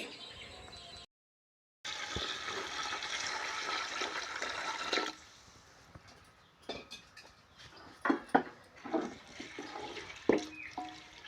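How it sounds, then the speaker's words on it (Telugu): Water poured over rice for a home-cooked prawn biryani, two measures of water to each measure of rice, heard as a sustained close rushing pour that fades into softer splashes and trickles. "లోటా బియ్యానికి రెండు లోటాలు నీళ్ళు వద్దామండి"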